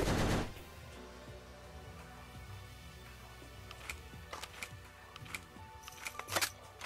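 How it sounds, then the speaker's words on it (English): Scattered gunshots crack out in a prison escape video game, a loud burst at the start followed by sparse, irregular shots of varying loudness, with a final cluster near the end. "Who's shooting me?"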